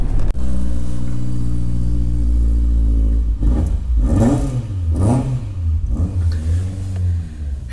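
An old Ford Escort's engine idles with a low rumble, then revs hard several times in quick rising and falling bursts, loud and close.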